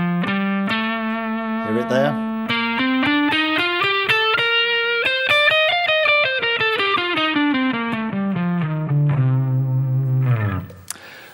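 Guitar running up and back down a full Dorian mode scale in clear single notes with effects and light reverb, followed by a brief spoken question near the end.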